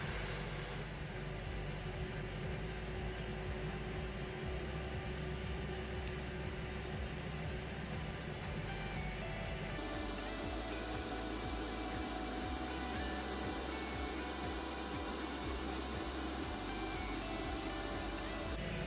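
A 12V RV air conditioner ramping up on its turbo, highest setting, giving a steady loud broadband whoosh with a low tonal hum that shifts partway through, continuous and close.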